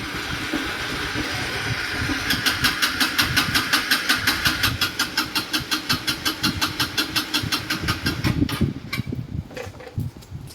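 A motorbike engine turns over in the rain, chugging in quick, even pulses that build for several seconds, then cut off abruptly near the end.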